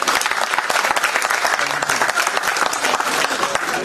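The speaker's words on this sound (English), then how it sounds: "He's going doesn't mean that you won't clap and applaud." Sustained applause from a conference audience, thick overlapping claps at an even, brisk pace, loud and close, with a few voices faintly mixed in.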